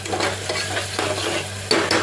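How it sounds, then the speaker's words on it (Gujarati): Ground masala paste with chutney and chilli sautés in hot oil, a continuous close sizzle broken by scraping stirs, with a sharper clink of the spoon near the end. "મસાલો વાટ્યો તો તેને ઘડીક આપણે સાતળવા દઈશું"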